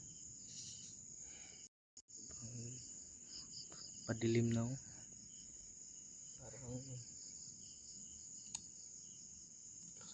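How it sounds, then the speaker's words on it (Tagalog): Crickets chirp continuously at dusk in an open outdoor place, a steady high shrill trill running throughout, with a brief dropout and a few spoken words in the foreground. "mga kuliglig at ibon yung maririnig natin dito sa buong lugar na to"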